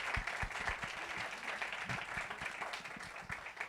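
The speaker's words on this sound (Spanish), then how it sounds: "un aplauso para Raúl" Faint, steady applause from an audience at an integrity officials' meeting, sounding distant and soft, with scattered individual claps standing out in the wash.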